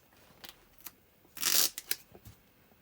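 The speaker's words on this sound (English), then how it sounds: "all I'm going to do is get a little bit of duct tape" Duct tape being pulled off the roll and pressed down inside an Imperial gunner helmet to hold a lens, heard as short faint rasps and one louder ripping burst in the middle, close and quiet.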